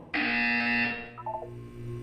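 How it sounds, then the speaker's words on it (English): A loud electronic buzzer in the video game Portal 2 sounds once as a single sustained tone that then fades, followed by softer tonal chimes. "You will hear a buzzer."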